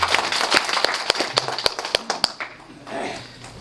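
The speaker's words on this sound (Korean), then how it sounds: "여러분 박수로 부탁드리겠습니다." Audience applause at a district council monitoring report meeting and forum: a steady patter of many hands clapping with sharp individual claps standing out, fading away toward the end.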